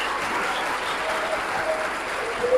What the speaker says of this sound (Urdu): یار تالیاں بجاؤ